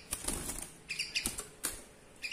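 A caged songbird flutters its wings in short, soft bursts of flapping at close range, repeated several times with faint quiet between.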